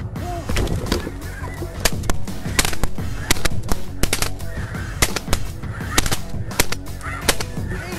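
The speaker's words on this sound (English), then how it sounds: "Snow goose hunt that you can't miss." A flock of snow geese on a Missouri hunt honks in a dense, overlapping chorus, loud and close, with many sharp calls repeating over eight seconds.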